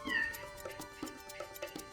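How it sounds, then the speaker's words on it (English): A cat meows close by, a drawn-out plaintive call followed by several shorter repeated mews at an uneven pace, fairly quiet with no talking. "Meow."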